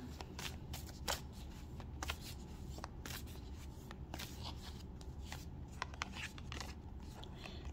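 Oracle cards from a Love Oracle deck being shuffled and drawn, a continuous run of crisp papery flicks and riffles with sharper snaps now and then, close up and steady, with no voices.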